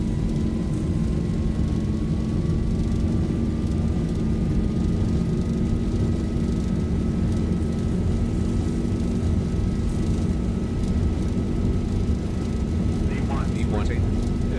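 A simulated airliner in X-Plane 12 rolls down the runway for takeoff with a steady loud engine roar and a rising whine, continuous throughout, with a few brief clicks near the end.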